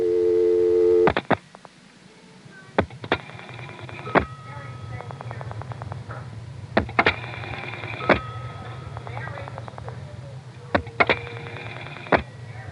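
A recorded Senderized XY step-by-step telephone switch handles a dialed 1 followed by a string of zeros, with a brief tone and then repeated bursts of rapid relay and stepper clicking over a steady low hum.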